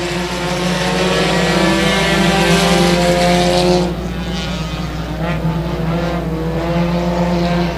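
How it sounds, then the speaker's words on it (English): Six compact 4-cylinder race cars run a heat race at a raceway park, a loud, sustained layered engine roar that drops off sharply partway through, then continues as a rougher, fainter drone. "6 cars going 6 laps in distance in your first compact 4-cylinder heat race of the night here at the Revolution Raceway Park"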